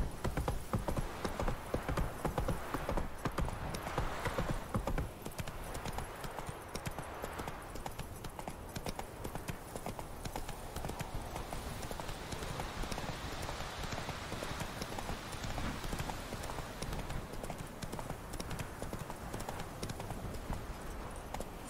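Hooves of Roach, the horse in The Witcher 3: Wild Hunt, clip-clop in a steady, continuous gallop, close and loud, with a brief whinny possible and a faint rain-like wash beneath.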